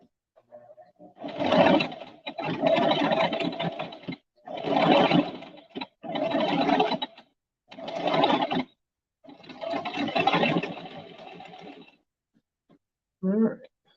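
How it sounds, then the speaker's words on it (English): A Brother 1034DX serger runs in six rhythmic bursts of steady mechanical whirring with short pauses between them while hats and scrunchies are sewn, followed by a brief voice at the very end. "With the sewing machine going?"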